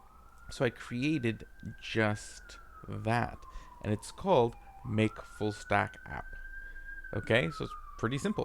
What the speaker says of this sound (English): So sorry for the sirens.